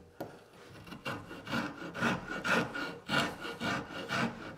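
A wood rasp with randomly cut teeth shapes a wooden sculptural joint in a run of about a dozen close, rhythmic rubbing strokes that rise and fall steadily.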